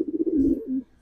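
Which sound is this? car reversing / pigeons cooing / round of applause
pigeons cooing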